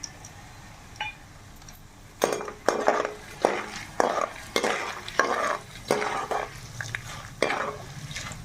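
Chana dal, mustard seeds and fenugreek fry and sizzle in a pan while a spoon stirs and scrapes against the metal, producing repeated clinking strokes over a steady low sizzle.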